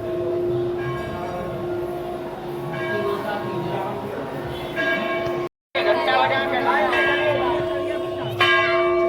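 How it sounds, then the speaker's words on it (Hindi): A temple bell rings at Sati Anusuya ashram in Chitrakoot, its steady sustained tones carrying through the whole stretch above crowd chatter and voices. "घंटा बजा के दर्शन करिए।"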